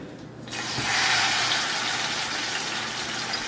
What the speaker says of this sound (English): You don't hear it sizzling?